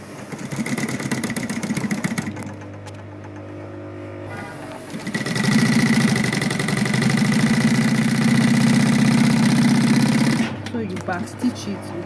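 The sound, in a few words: sewing machine back stitching a quilted zipper purse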